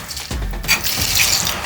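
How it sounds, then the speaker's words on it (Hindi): One litre of water pours into chana dal in a karahi: a soft knock, then a steady splashing, gurgling pour that continues to the end. "इसमें पानी शामिल करेंगे हम 1 लीटर।"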